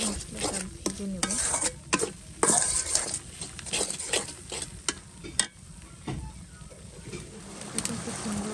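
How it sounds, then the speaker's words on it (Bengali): Spice paste (masala) frying in a pan, a crackling sizzle broken by repeated sharp spatula scrapes and taps against the metal, close up, with birds chirping faintly in the background. "এটা ভালো করে মশলাটা ভেজে নেব।"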